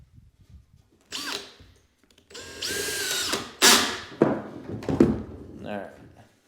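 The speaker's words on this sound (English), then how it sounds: "I've got the drill set to the clutch setting" A cordless drill set on its clutch drives screws into a door frame during house trim work, with several short whirring bursts, a ratcheting clutch slip and knocks, close and fairly quiet.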